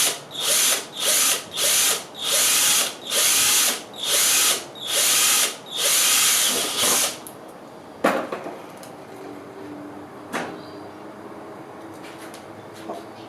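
A power drill drives screws into a pool pipe fitting in about nine short, loud whirring bursts with brief pauses between them. It then stops, leaving quiet clicks and light handling noise.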